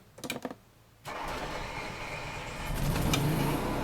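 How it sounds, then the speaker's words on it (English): A brief cranking rattle, then the generator on a Jayco Greyhawk RV catches and settles into a steady, loud running hum that grows slightly stronger after a few seconds. "you can turn on the generator right here. It just has a simple start button."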